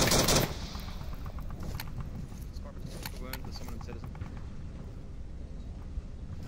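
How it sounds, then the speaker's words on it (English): Gunfire in a video game as a player shoots through wood, starting with a loud burst and then going on as quieter rapid shots under a voice talking. "If he starts firing through the wood, he has a chance of taking out Icy Woods."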